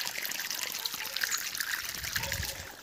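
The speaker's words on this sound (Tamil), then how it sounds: "அதை விட தண்ணி எப்படி வருதுன்னு சொல்லிட்டு போயிட்டு பார்ப்போம்" Water streams from the outlet of a 2200W BLDC borewell motor pump drawing from 700 feet through a 1.25-inch pipe, a steady splashing trickle with no voices over it.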